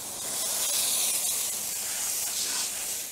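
Steady hissing water spray washing the blade of a Factory Cat floor scrubber, a broad continuous rush that swells slightly and holds for about three seconds, close and alone.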